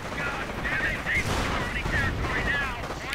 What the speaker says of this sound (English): Rockets being exchanged, but neither really managing much. Sniper still sneaking about. And Grenadiers quickly forced away by lots of BARs.